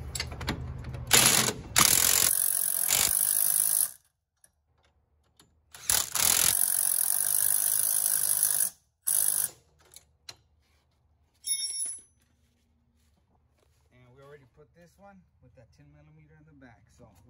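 A ratchet or power tool tightens 18 millimeter rear strut bolts on a 2005 Dodge Neon in several loud, close bursts of rapid clicking whir separated by silence, with someone talking briefly near the end.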